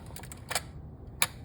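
Nikon F3 camera shutter set to T: a quick cluster of light mechanical clicks, then a pause and a single sharp click as it closes, close and fairly quiet over a faint low room hum.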